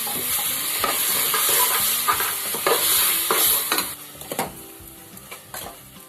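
Tomatoes cook in a pan, giving a loud, steady sizzle, with repeated spoon scrapes and taps that thin out toward the end.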